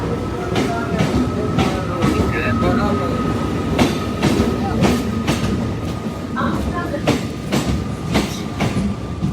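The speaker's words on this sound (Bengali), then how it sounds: "ট্রেন চলে এসছে, এখন ট্রেনে করে যাব।" A train rolls into a station, its wheels clacking rhythmically over the rail joints in a close, steady rumble, with faint squeals and background chatter.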